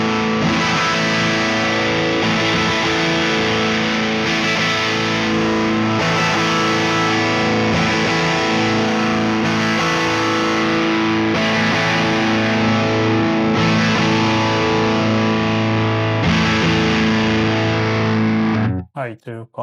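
Distorted electric guitar runs through a Mesa Boogie Mark IIC+ amp plugin from Neural DSP, playing a continuous heavy, saturated riff for about nineteen seconds, loud and dense, then cutting off abruptly at the end.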